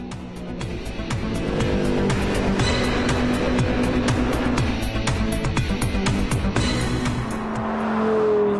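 An Audi R8 accelerates hard, its engine roaring loud and continuous with rising tones, rapid gear changes and a brief squeal near the end.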